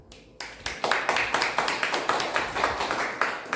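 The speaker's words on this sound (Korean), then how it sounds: "우리 한준희 지사님께도 우리 감사의 박수를 쳐주시기 바랍니다" A church service group bursts into applause, steady rhythmic clapping from a small gathering that starts abruptly and continues evenly, close and moderately loud, with no talk.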